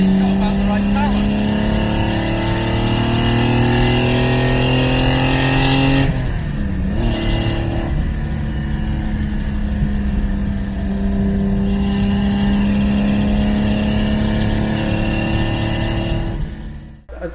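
A supercar's engine runs loud and close, a steady, throaty drone whose pitch climbs and settles in several swells, with brief dips before fading out at the end.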